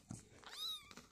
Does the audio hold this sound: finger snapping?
no